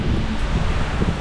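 Strong wind at a camp during Typhoon Carina rushes steadily in a loud, blustery roar that buffets the microphone, with no voices present.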